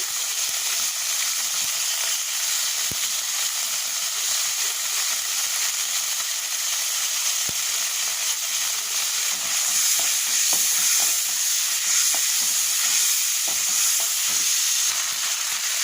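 Whole bay leaf, cinnamon and cardamom fry in hot oil with a loud, continuous sizzle and hiss, joined by occasional stirring scrapes and pops, and no voices.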